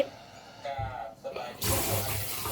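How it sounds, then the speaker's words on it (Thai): Water is sprinkled over bean sprouts layered in a bucket, a soft splashing and pouring that starts quietly and swells into a steady wet rush toward the end, with a voice speaking over it. "ปิดไว้แล้วก็พรมน้ำนะจ๊ะพรมน้ำให้ชุ่ม รดน้ำให้ชุ่ม"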